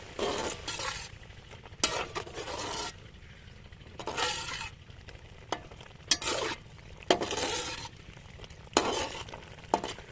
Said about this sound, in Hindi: मसाले को मिक्स कर लेंगे।